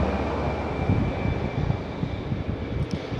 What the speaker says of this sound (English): Those lovely helicopters.